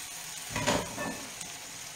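Broccoli sauce cooks in a pan with a soft sizzle and a brief stirring scrape in the middle, fairly faint and close.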